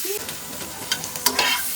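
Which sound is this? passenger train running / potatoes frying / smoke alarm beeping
potatoes frying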